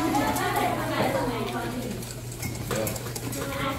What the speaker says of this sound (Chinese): 这个需要再搅拌